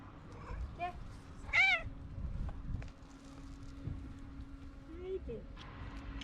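A cat meows while begging for food, with a bright, rising meow near the middle and smaller mews around it, close and fairly loud over steady low background hum and people talking.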